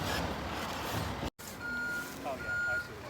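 A big truck backing up among large piles, its reversing beeper pulsing steadily at close range with the engine rumbling underneath and a voice speaking over it.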